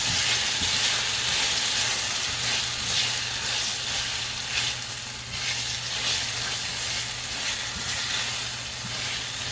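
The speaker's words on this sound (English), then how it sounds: "Now we're gonna give this a stir." Rice toasting with canned Rotel tomatoes sizzles steadily and loudly in a hot pan while it is stirred, a continuous frying hiss with soft scraping and no voices.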